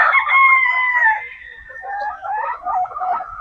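A pen of young pullets gives loud, close crowing and clucking calls that run almost continuously and rise and dip in a ragged chorus, with no talking.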